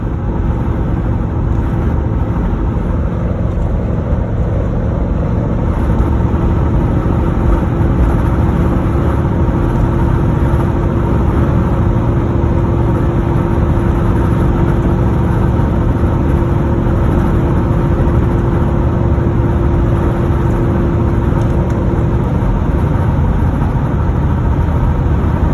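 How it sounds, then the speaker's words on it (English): Lifted truck rolling down a highway at 75 mph, its tires giving a loud, steady road roar and low engine drone with wind noise, unbroken and constant from start to finish, no voices. "You can hear my tires along here."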